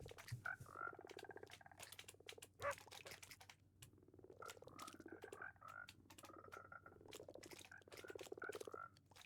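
Frogs in the Minecraft video game croak in a dense, rapid chorus of short gurgling calls, layered and continuous at moderate volume with no talk over them.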